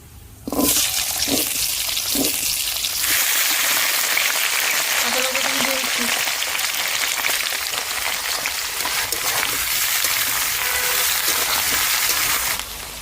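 Potatoes tossed into hot oil for a fish-roe fritter curry, giving a loud, steady broadband hiss that fills the whole clip after a few clatters at the start, with no talk over it.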